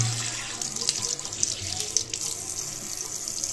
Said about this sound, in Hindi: पानी वेस्ट भी नहीं होता, कम कम निकलता है पानी